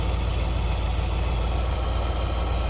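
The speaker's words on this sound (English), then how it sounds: "So we are idling much smoother than we were." A 1973 Ford Econoline E200 van engine idling smoothly after a carburetor clean and tune-up, a steady, even, close rumble with no breaks or changes in loudness.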